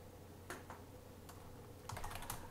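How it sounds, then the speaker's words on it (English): Typing on a computer keyboard in a quiet room: sparse, faint key clicks in short irregular clusters, with no voice. "let me type out the question"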